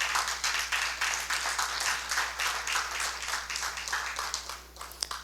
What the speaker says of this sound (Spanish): debemos darle un fuerte aplauso al Señor